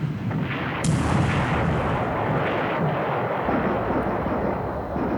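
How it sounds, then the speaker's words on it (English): A ship's magazine exploding during a dive-bomber attack in the War in the Pacific strategy game, heard as a continuous low, rumbling roar of blasts and booms that swells slightly and then sustains steadily, with no voices. "And magazine explosion."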